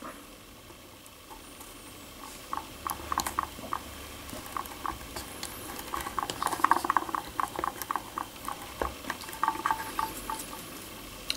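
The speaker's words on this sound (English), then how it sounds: "you basically cut slices off" A knife slices through a compressed plug of pipe tobacco, making rapid, close, crisp little crackles and ticks that build into a dense patter midway and continue steadily.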